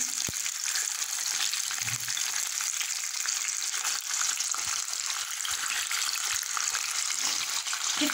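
Chicken pieces fry in olive oil in a tagine, giving a steady, dense sizzle throughout with occasional soft stirring bumps, moderately close and with no talking.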